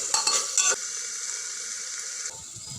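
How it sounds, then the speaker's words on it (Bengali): Potatoes with ground cumin and turmeric sautéed in a pan, a loud close sizzle with a few brisk stirring scrapes early on, then a steady frying hiss that fades near the end. "আলু আর মশলা ভালো করে কষিয়ে নিয়েছি"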